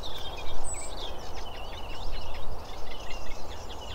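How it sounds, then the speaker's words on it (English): A robin sings in reed beds at a nature reserve in Derbyshire in late spring, its thin, high, warbling phrases repeating over a steady noisy background, moderately near but faint. "There's a robin singing."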